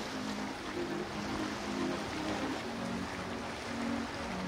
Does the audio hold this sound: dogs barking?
no